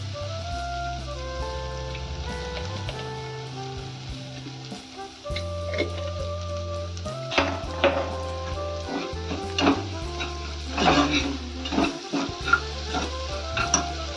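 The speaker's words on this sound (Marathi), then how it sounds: "परतून घेऊया." Toor dal tempering sautéing in a pan for amti, a steady loud sizzle and frying hiss with intermittent stirring scrapes and clinks throughout, no talking.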